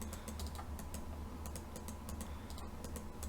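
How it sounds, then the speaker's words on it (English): Rapid clicking of computer mouse buttons from a short distance, a steady run of sharp, light taps repeating irregularly over a low background hum. "I'm going to be starting just pressing mouse buttons."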